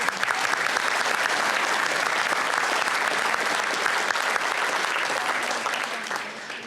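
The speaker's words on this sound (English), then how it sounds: "A round of applause for all of the parents of those athletes." An audience at a high school hall of fame induction ceremony applauds the athletes' parents, with loud, dense, sustained clapping filling the hall and tapering off slightly near the end.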